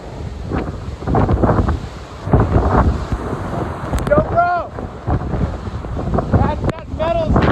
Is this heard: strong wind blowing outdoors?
yes